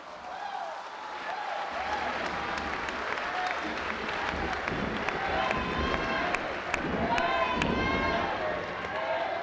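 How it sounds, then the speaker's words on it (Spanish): An audience applauds at a traditional purification and staff-of-command ceremony, sustained clapping from a crowd mixed with murmuring voices, fairly distant and even. "Un aplauso para todos y para todas."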